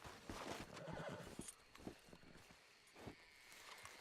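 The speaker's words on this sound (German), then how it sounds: "wieso kommen denn jetzt 2 Pferde?" Horses neigh and whinny in the game Red Dead Redemption 2, with clip-clop hooves trotting close by; a loud burst of whinnying and hoofbeats opens, then fainter neighs and steps follow alone.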